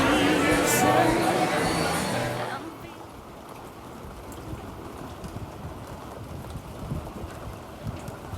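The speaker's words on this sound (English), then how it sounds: "and it is raining" Rain falls steadily at Staniel Cay in the Exumas, a dense hiss with wind rumble that is loud and broadband at first, then settles into a softer, continuous patter for the rest of the stretch.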